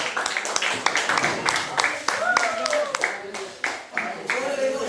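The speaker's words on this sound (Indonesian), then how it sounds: "Beri tepuk tangan dulu." Audience applause at an Indonesian group presentation, scattered claps spread across the room with voices talking over them and a short, whistle-like tone partway through.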